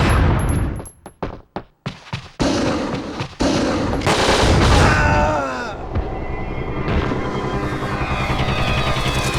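Gunfire from a PS2 video game arsenal of handguns, shotguns, machine guns and rocket launchers: a few sharp separate shots, then a sustained loud burst of rapid automatic fire with booming impacts and crackling debris.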